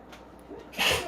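A single sharp sneeze from a person in a home kitchen, close and sudden, rising out of quiet room tone near the end.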